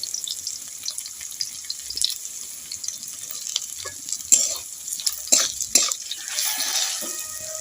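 Onions frying in a pan give off a loud, continuous sizzle, broken by scraping stir strokes that cluster and grow sharper toward the end.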